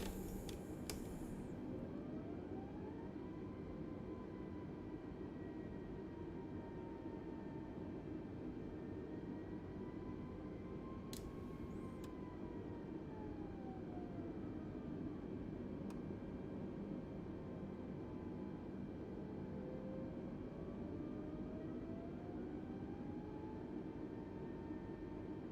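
An Airbus A320neo taxis in Microsoft Flight Simulator, its engines giving a steady low hum and whine that drifts slowly in pitch, with a couple of brief clicks, no talk.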